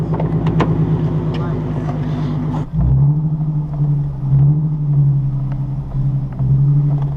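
Car fitted with eBay coilovers driving on a ride, giving a steady low engine and road rumble that shifts pitch partway through, loud and continuous with a voice heard over it.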